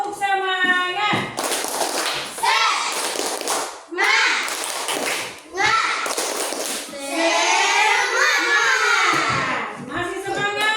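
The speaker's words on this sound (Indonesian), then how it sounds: "Sekarang tepuk semangat." A class of schoolchildren performs a rhythmic cheer clap in a classroom, bursts of group clapping alternating with loud chanted voices in a steady pattern, close and energetic.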